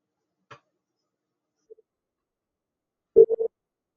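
Telephone line tones heard while cold-calling through a list: a faint click, a soft blip, then three short close tones in quick succession near the end, with near-silence otherwise.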